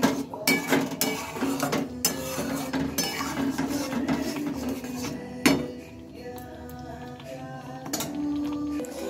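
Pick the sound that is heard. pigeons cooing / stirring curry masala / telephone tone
stirring curry masala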